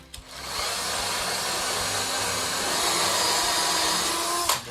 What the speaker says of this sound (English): Drill on down.